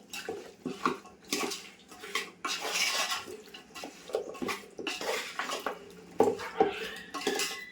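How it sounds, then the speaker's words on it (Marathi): Mixed vegetables being stirred into a cooking pot for veg biryani, with a spoon scraping and clinking against the metal in repeated close strokes, alone without talk. "आता मी भाज्या सगळ्या आता ओतून घेते टोपात आणि सगळं मिक्स करून घेणार ना हो."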